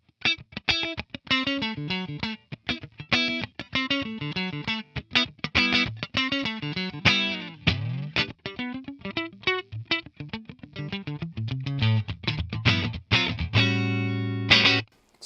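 Percussive electric guitar through a Tonex capture of a brown-panel Fender Vibroverb amp, with clipped, muted plucks and quick staccato notes in a busy rhythm, a few sustained chords at the end, loud and unaccompanied.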